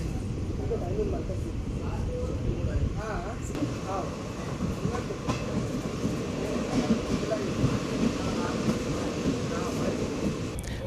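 Passenger train No. 17662 (Basara to Kachiguda) pulls away from Ammaguda station after a one-minute halt, a continuous low rumble and rattle of wheels heard from onboard throughout.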